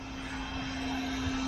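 The electric motor of a new Tamiya TA02 Opel Calibra RC car runs on its first outing, a steady, fairly loud whirring drone with a constant tonal hum that holds on without any break.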